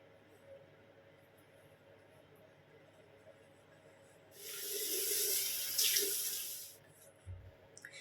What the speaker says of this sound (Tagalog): So, maghilamos muna tayo mga Mars.